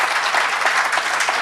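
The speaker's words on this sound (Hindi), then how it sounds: "ताली बजाओ रे, अभिनंदन कर" An audience bursts into steady, dense applause at a family gathering, many hands clapping together up close with no voices over it for the short stretch.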